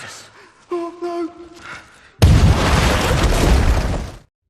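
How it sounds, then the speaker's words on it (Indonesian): A booby trap explodes: a sudden loud blast bursts in after some brief voices and gasps, then a sustained roaring rumble of a collapsing wall lasts a couple of seconds before cutting off. "Seekor tikus tiba-tiba memicu jebakan tersebut sehingga meledak"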